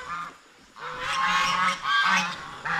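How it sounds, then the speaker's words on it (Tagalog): Geese honk nearby in loud, brassy bursts, a short call followed by longer overlapping honks, in a farmyard pen where turkeys are also kept. "Tingnan niyo po yung mga pabo natin at saka gansa."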